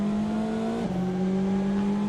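GT race car engine in the racing game Assetto Corsa, a steady loud in-car drone held at high revs with a brief shift in pitch partway through.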